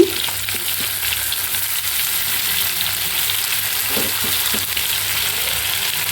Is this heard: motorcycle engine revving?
no